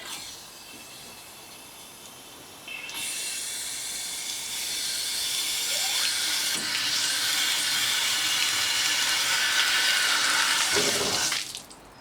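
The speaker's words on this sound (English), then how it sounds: "I'm actually just going to open this isolation valve, and if there's any copper bits in there we'll actually flush them out" Water rushes through a freshly opened isolation valve for an outside tap, flushing copper bits from the pipe. After a quiet start it swells into a loud, steady hiss that cuts off abruptly near the end.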